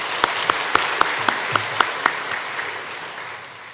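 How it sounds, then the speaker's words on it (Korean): A church congregation at a Sunday service claps in a steady rhythm, about eight sharp beats, then the claps blur into a fading wash of applause. "자, 우리 박수로 먼저"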